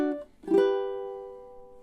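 A ukulele plays measure 10 of a song: a brief chord, then a second, fuller strum that rings out and slowly decays, clean and close.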